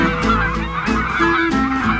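Geese honk loudly and repeatedly in a dense, overlapping chorus of nasal calls, close and continuous with no voices.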